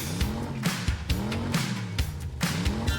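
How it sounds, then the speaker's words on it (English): A car with squealing tires plays within an album track, repeated swooping revving and skidding sounds in a rhythmic loop over a steady musical background. "That sounds like a car."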